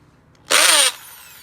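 A power drill whirs in one short, loud burst of about half a second, boring a hole while solar LED step lights are installed, then spins down quietly.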